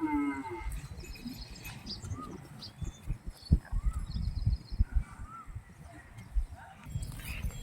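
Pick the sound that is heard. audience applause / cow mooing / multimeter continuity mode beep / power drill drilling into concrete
cow mooing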